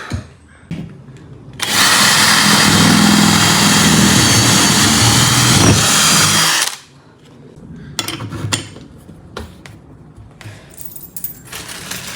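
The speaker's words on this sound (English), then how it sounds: "and now the D-rings. Get that bolted down." A power drill drives bolts to fasten D-rings to the floor of a cargo trailer, running loud and steady for about five seconds, followed by quieter clunks and handling noises with no talking.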